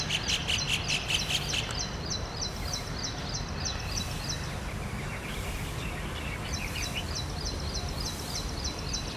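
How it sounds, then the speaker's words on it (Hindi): Two bulbuls calling repeatedly from a bush, bright rapid chirping phrases coming in bursts over steady insect and cricket hum, fairly close and clear, with no speech. "इस वाले बुश पे बार बार आके बैठ रही हैं दोनों बुलबुल्स।"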